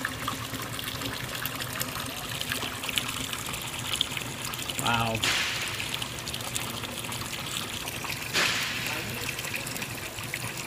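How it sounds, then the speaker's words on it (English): Water pours steadily out of an engine into a bucket during an oil change, a continuous trickling gush running through the whole stretch, with a person speaking briefly over it. "It will be when it's done pouring all the water out."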